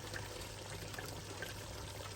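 Water is poured steadily into a cooking pot for Bahraini meat thareed, a continuous close trickle and splash with no talk.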